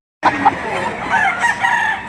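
A rooster crows amid a busy chicken market in Lipa City, Batangas, its call rising over steady crowd murmur and background chatter, with a couple of sharp clucking bursts near the start.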